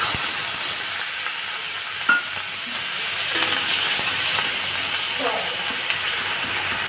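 Onion paste frying in hot oil in a pan after fish has been fried, for a Bengali potol katla dish: a steady close sizzle and hiss throughout, with a few brief clinks and stirring scrapes.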